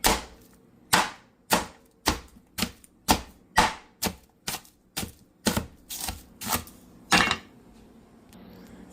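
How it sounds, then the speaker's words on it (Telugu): Knife chopping onions on a board, a dozen crisp close chops in an uneven steady rhythm, each a sharp knock with short ring, over a quiet room hum and no talk. "onion cutting"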